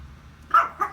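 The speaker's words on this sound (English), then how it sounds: "So this is some loud dog" A loud toy dog Halloween decoration gives two short barks close by, the second a little weaker, each standing out over a faint low background hum.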